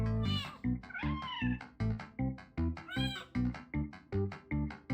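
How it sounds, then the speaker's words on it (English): Cat in the Slime Rancher 2 video game meowing repeatedly, a rapid run of loud, close mews and chirps in a steady rhythm, several with rising wavering tones, with no talk over it. "You can pet the cat!"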